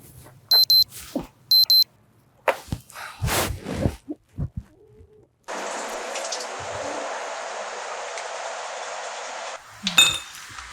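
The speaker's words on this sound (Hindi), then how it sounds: "यार ये अलार्म तो बंद कर दिया करो ना" An alarm beeps in two short bursts of repeated tones, followed by clattering household knocks and clinks, then a long steady hiss like running water, in a home early in the morning.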